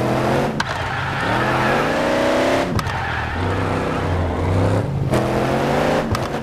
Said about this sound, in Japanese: うわ、 V8 の音いいわ。